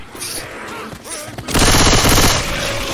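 Left 4 Dead 2 gunfire erupts loud and dense in the second half, a rapid automatic burst over scattered earlier shots and game noise.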